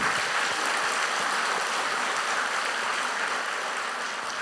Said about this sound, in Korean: 우리 박수 한번 칩시다, 하나님 앞에